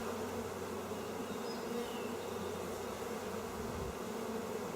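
Honey bees swarm in the air around an open hive during an inspection, a steady, close, unbroken buzzing drone with no voices.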